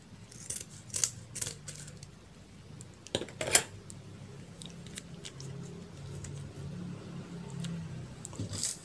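Scissors snip open an instant fried noodle packet in a kitchen, giving a few sharp crisp cuts and crinkly plastic rustles spread over several seconds, close and fairly quiet.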